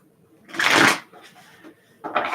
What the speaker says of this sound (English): Shuffle these cards up here and see what we can come up with